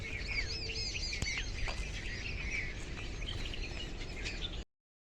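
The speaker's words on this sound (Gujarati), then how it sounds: "જો બધા મોર ને બધા આવા માંડે પક્ષીઓ બધા" Peacocks and other birds gathering for food at a temple, many chirps and calls overlapping at moderate distance over a steady outdoor hum, ending abruptly in silence.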